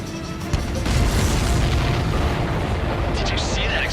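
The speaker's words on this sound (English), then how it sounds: "Did you see that explosion?" A deep, rumbling explosion rings out in the Ace Combat 7 flight combat mission Homeward, a loud broadband blast that swells and lingers under continuous jet and battle noise.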